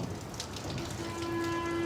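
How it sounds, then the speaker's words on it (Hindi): Rain falling outdoors, a steady broadband patter with a faint tonal hum running through it, no voices. "बारिश हो ही गई"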